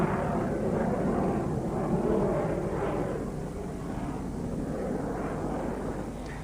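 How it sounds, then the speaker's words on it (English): A jet aircraft flies slowly at a high angle of attack near the stall during an airshow, a sustained distant engine roar with slow swelling surges, steady and unaccompanied by talk. "At this high angle of attack, the aircraft is very close to the stall."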